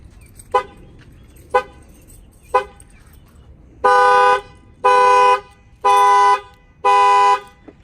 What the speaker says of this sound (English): And then the alarm is going to fire off.